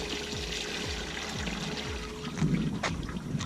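Water drains out of a summer home's plumbing pipes during winterizing, a steady trickling gush with rhythmic gurgling pulses and a brief surge partway through.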